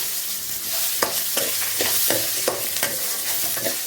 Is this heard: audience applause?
no